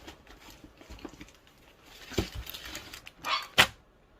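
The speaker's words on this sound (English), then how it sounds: "Sorry, that was one of my dogs." Dog in a home barking indoors at some distance, with a couple of short yips and barks, the sharpest one near the end, over quiet room noise and faint handling sounds.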